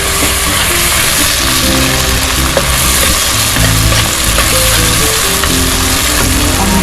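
Tomatoes sizzling loudly as they sauté in a pan for ginisang monggo, a steady dense frying hiss with stirring scrapes throughout, close and continuous with no talk.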